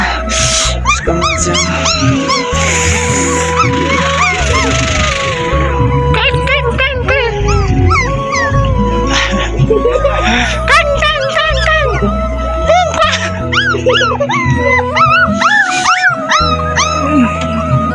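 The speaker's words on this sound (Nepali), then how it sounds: "हाम्रो अलि आडु चाहिँ कुकुरका बच्चाहरू छन् देख्न सक्नुहुन्छ 3वटा" Three puppies whimpering, yipping and howling in rural Nepal, repeated high wavering cries close by and loud, with a person talking over them.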